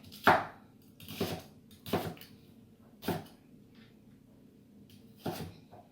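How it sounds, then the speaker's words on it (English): Five sharp knife strokes slice through a crisp onion on a board, spaced unevenly about a second apart, close and clear with nothing else around them. "we're going to go ahead and just slice this onion up"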